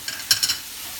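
Chopped lemongrass and lemon leaves for fish laab being mixed by hand in a bowl, a few brief soft rustling, scraping strokes close by with no talk.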